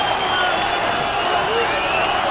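Arena crowd at an MMA bout between Anderson Silva and Demian Maia, a dense steady roar of many voices reacting, loud and continuous throughout, with no break in the noise.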